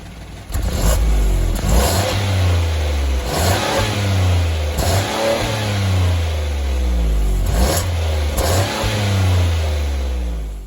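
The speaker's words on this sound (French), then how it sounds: "je vais faire quelques accélérations et vous allez voir que franchement, ce n'est pas du tout dérangeant comme moteur" A small Peugeot 208 phase 2 car engine revs repeatedly, rising in pitch and dropping back to idle several times in a steady pattern, close and loud.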